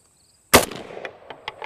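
A single sharp report from a BioAmerica Defense FAL rifle with its gas opened up and short-stroking. The blast comes after a moment of silence and is followed by a few light metallic clinks.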